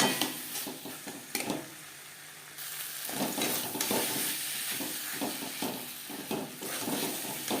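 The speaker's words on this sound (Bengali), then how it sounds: "দু তিন মিনিট নাড়াচাড়া করে নেওয়ার পর দিয়ে দেব জল" Fried spice masala being stirred in a pan for a fish and bean curry, giving a steady sizzle with scraping strokes of a spoon against the pan, close up and with no talking.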